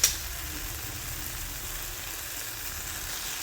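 Garlic powder sautéing in a pan for a homemade Maharashtrian-style pizza topping, giving a steady, even sizzle that stays close and fairly quiet throughout, with no talking.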